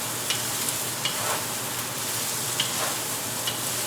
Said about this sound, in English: We're just going to go ahead and give this a nice stir.